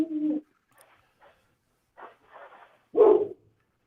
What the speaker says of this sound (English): Is that you barking, Lawson?